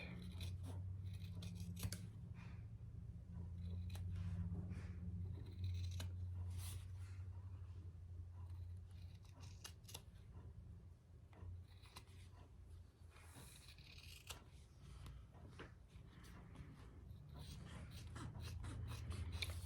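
Scissors trim the corners of a pouch sewn with cotton thread on a 1952 Singer sewing machine, giving faint, close snips and crisp cuts scattered irregularly through a quiet stretch.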